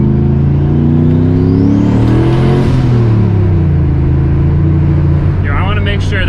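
A Volvo sleeper car with an upgraded fuel pump floored from inside the cabin, engine roaring loud and close as its pitch climbs through a gear, drops at the shift, then pulls again.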